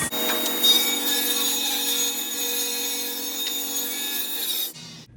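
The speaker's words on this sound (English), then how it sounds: "Now I'm gonna cut as many 1/2 inch strips as I can." A table saw rips thin half-inch strips from a 2x4, giving a steady, loud whining cut that holds for nearly five seconds and then stops abruptly as the blade clears the wood.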